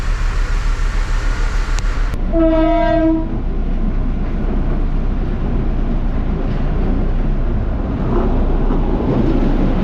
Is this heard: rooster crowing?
no